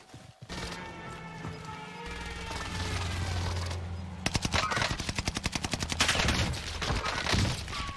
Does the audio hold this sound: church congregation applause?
no